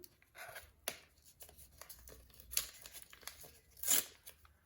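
A paper packet is torn open in a few quick, crisp rips with crinkling between, close and fairly quiet.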